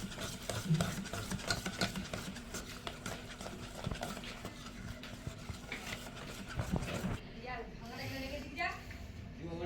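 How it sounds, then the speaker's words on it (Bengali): Cake batter being mixed by hand after baking soda and baking powder go in, with soft repeated stirring and scraping strokes in a bowl, close and fairly quiet, while a person talks over most of it. "আমি বেকিং সোডা আর বেকিং পাউডার দিয়ে দিচ্ছি দিয়ে মেলাচ্ছি ভালো করে"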